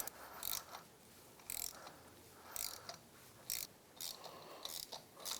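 A hand ratchet clicks in short repeated bursts, about five strokes at an even pace, loosening 10 mm cam access panel bolts on a Kawasaki KLX110 pit bike engine, close and otherwise quiet.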